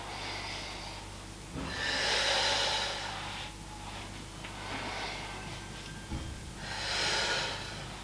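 Sharp, forceful breaths during a pilates back warm-up for sensitive backs, heard as three strong bursts of exhalation spaced a few seconds apart, close and fairly loud with quieter breathing between.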